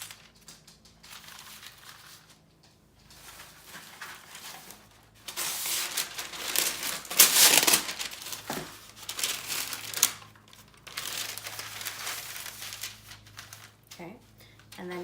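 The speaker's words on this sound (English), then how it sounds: "Going to place the parchment paper on top of this." Parchment paper crinkles and rustles as it is laid over a fruit tart pastry shell, quiet at first, then louder bursts of crackling in the middle, with people talking throughout.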